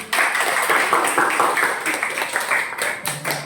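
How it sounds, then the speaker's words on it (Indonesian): A group of schoolchildren in a classroom clap their hands together in a quick, irregular burst of overlapping claps at close range, with a few sharper single claps near the end. "Tepuk tangan untuk kita semua."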